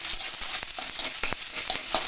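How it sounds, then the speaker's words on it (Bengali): Spices and onion fry in oil in a wok, making a close, even sizzle broken by a few sharp scrapes and clinks of a spatula stirring against the pan. "এবার কড়াইতে তেল দিয়ে আমি মশলাটা ভেজে নেব।"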